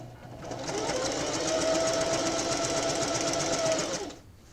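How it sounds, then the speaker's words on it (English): A sewing machine quilts a colorful quilt with a decorative stitch at the longest stitch length and width 4, a steady close whirring run of about three seconds that stops abruptly. "I have my machine set at the longest stitch length, and because I'm using a decorative stitch, I have my machine set on a 4 for the width"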